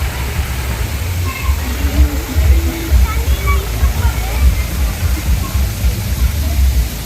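A waterfall with low water flow runs beside a road, giving a steady broadband rush of falling water with faint intermittent voices beneath it.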